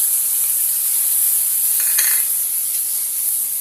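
Okra frying in a hot pan with a steady bright hiss and sizzle, loud and close, with a brief clink of stirring near the middle and no talking.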